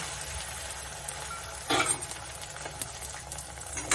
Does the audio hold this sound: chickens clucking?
no